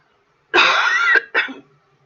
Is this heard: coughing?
yes